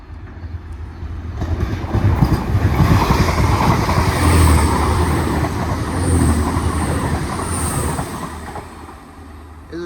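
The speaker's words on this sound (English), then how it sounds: "Next train to pass by." A double-unit Class 185 train rolls through Earlestown station, a loud, sustained rumble of wheels and carriages building, holding steady for several seconds, then easing as it passes close by.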